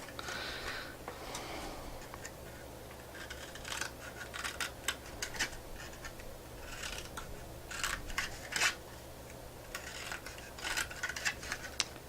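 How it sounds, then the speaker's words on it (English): Scissors snipping through cardstock paper along score lines for a paper pumpkin craft: repeated short crisp cuts in irregular clusters, close up, over a low steady hum. "I should probably be using these scissors."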